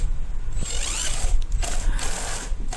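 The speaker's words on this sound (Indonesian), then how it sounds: "Nah ini satu lagi kita sekrup." Screws being driven into the side panel of a wall-mounted study desk, close and fairly loud, with a continuous mechanical whirring and ratcheting that rises and falls over a few seconds.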